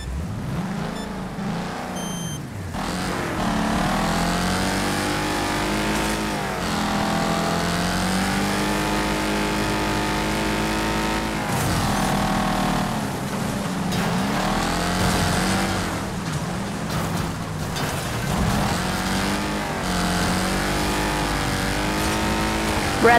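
Rocket car engine roaring in the racing game Wreckfest, loud and sustained with rising and falling revs, gear changes and brief drops in pitch, continuous throughout with no talking.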